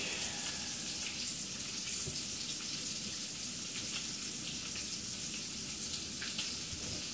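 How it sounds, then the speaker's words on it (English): Steady rush of a running tap with water splashing over tomatoes being rinsed at a kitchen sink, continuous and even throughout, with no talk. "I'm gonna rinse off the tomatoes real quick."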